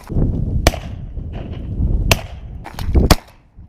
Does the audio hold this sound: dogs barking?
no